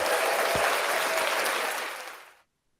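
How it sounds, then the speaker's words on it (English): A studio audience applauds to welcome a guest onto a talk show: dense, loud, sustained clapping that carries on for a couple of seconds, then fades and cuts off into silence. "I didn't realize I was going to get like a whole waft of applause"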